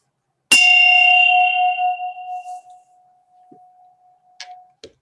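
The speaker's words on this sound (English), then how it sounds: "end it with the ringing of the bell" A Buddhist meditation bell is struck once at a memorial service, ringing bright and clear, then decaying slowly into a long pulsing hum that fades over several seconds, followed by a few faint knocks and clicks.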